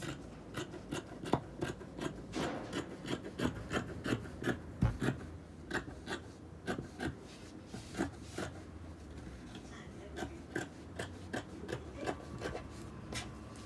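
Scissors cutting fabric along the neckline of a kimono bubu top, a steady series of short crisp snips and rustles repeating close by, with no talking.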